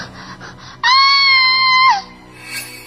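A cartoon girl lets out one loud, sustained scream of fright, a steady high tone held for about a second before it cuts off, with no one speaking over it.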